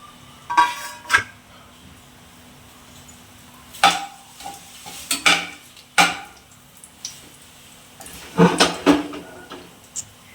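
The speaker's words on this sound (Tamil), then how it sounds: "இந்த பிரியாணி எண்ணெய் வந்து சூடாயிடுச்சு பிரியாணிக்கு போடுற எல்லா ஐட்டமும் நம்ம உள்ளே சேர்த்துடலாம்" Biryani ingredients dropped into hot oil in a pot, with short bursts of sizzling and metal stirring clatter separated by quiet stretches, close by and without any talking.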